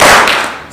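An audience at a gala dinner claps once in unison, a single loud, sharp burst of many hands that quickly fades.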